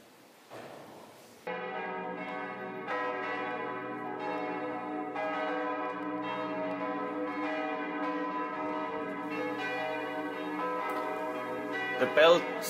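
Large bells of Bamberg Cathedral in Bavaria, Germany ring out in overlapping peals, rich sustained tones layering and struck again every few seconds, resonant and steady.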